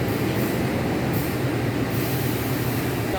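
Bengawan passenger train pulling out of Pasar Senen station in Jakarta, a steady loud rumble of wheels and carriages rolling continuously with no clear individual clacks.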